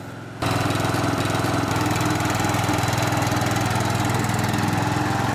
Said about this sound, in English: we get to hear the gas engine for the first time